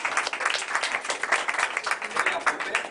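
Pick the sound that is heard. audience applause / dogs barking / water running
audience applause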